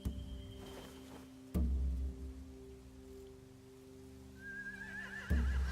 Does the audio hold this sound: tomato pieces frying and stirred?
no